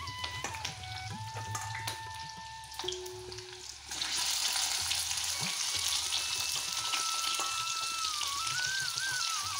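Onion and a bay leaf frying in hot oil, a steady dense sizzle that jumps louder partway through as more onion goes in, close and continuous with no voices.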